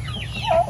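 A brief cluck from a chicken sounds over a low background hum, a single short call fairly close by.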